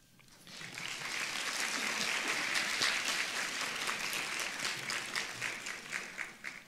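Warm round of audience applause at a Women in Engineering space and aviation panel, welcoming visitors from Tech Titans and area high schools; dense, steady clapping that swells and holds for several seconds, then tapers.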